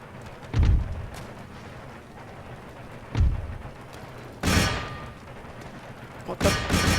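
Cannon and musket fire during the defence of Istanbul in Empire: Total War, heavy booming blasts spaced a few seconds apart over a constant battlefield rumble, with sharper crackling volleys later, all fairly loud and distant-sounding.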